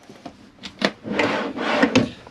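A storage drawer in an Elddis Prestige 180 caravan slides open and shut a few times, with short scraping rubs and light knocks, close by.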